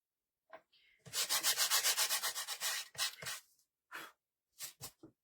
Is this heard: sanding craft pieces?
yes